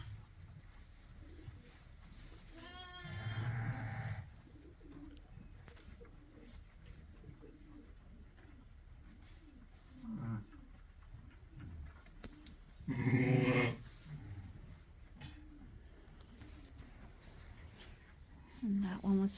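Sheep and young lambs bleat on a sheep farm, a few separate calls rising above the barn's low background noise, while a person talks steadily throughout.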